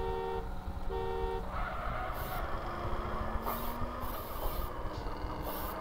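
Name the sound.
car horn honking in video game GTA San Andreas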